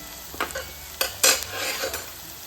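Moth beans are stir-fried in a hot pan for an Uttara Karnataka-style palya, with a soft sizzle under a few sharp scraping strokes of a spatula, one louder scrape standing out midway.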